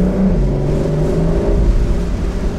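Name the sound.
convertible car exhaust and turbo sound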